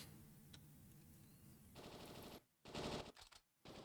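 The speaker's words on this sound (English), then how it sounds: "Gunfire." Bursts of automatic gunfire rattle in Final Fantasy VIII Remastered, a faint distant rapid chatter building into louder clustered volleys near the end, with no voices.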